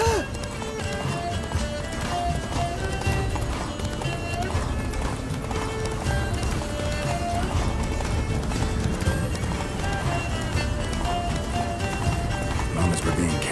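Roach the horse galloping in The Witcher 3: Blood and Wine, a steady rapid clip-clop of hooves with occasional snorts, while voices talk throughout over game music.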